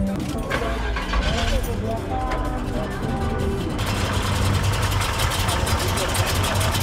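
A car engine at a Pomona swap meet runs at a steady idle, a low continuous rumble with broadband noise, while people talk faintly over it.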